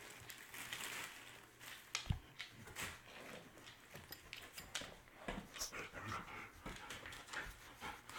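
A dog pants rapidly and close by, with a few whimpers and soft sniffs mixed in. The breathing comes in quick, uneven bursts and is fairly faint overall.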